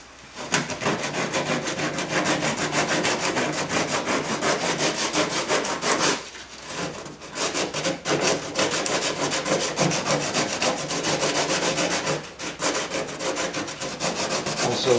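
A wooden interior part is smoothed down by hand with rapid, rhythmic rasping and sanding strokes, loud and close, broken by a couple of brief pauses, with no talking.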